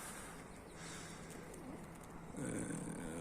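Soft pigeon coos murmur in a steady outdoor ambience, swelling a little louder toward the end, with no voices.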